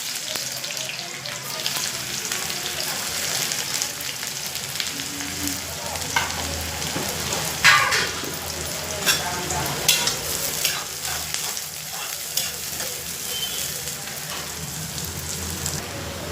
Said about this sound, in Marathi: हे बघ कांदे आता मस्त लाल झाले.